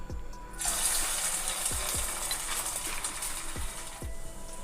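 Semiya (vermicelli) roti dropping into hot oil and frying, a steady loud sizzle rising suddenly after a brief quiet start, with several light clinks of a utensil against the pan.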